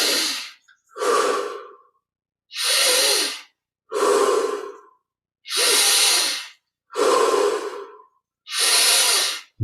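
Slow, deep breaths during a guided meditation, each long inhale and exhale rising and falling in a steady rhythm with short silent pauses between, close and clear with no talking.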